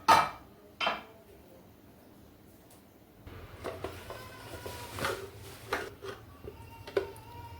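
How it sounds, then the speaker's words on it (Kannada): A pressure cooker is set onto a gas stove with a few loud metallic clanks at the start, followed by scattered lighter knocks and clatter of kitchen utensils. "ಕುಕ್ಕರ್ ಇಡ್ತಾ ಇದ್ದೀನಿ."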